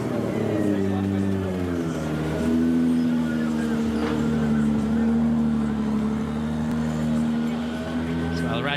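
Al-Rajhi's Dakar-champion rally-raid car pulling away at a Portuguese rally stage, its engine droning loud and steady with a rising then holding pitch, mixed with crowd and ambient noise and a commentator talking over it.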